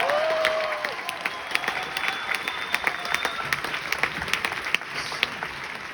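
Audience at a jazz festival concert applauds a jazz orchestra: dense, sustained clapping from a crowd, with a brief whistle near the start and scattered louder claps standing out.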